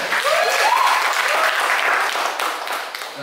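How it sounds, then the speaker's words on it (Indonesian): Audience at a radio announcer search concert breaks into loud applause with shouts and cheers rising at the start, then the clapping thins slightly as it continues. "tepuk tangan boleh"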